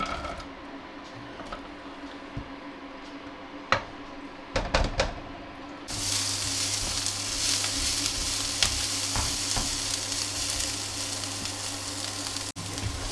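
Chicken pieces frying for butter chicken in a pan on an induction hob: quiet at first with a few knocks, then a loud, steady sizzle that fills the second half, close by and without talk.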